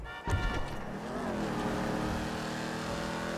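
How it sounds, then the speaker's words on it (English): A video game car engine with a deep V8 growl revs up and then holds a steady, loud roar, with no talking. "I just wanted something V8 sounding. Sounds very muscly."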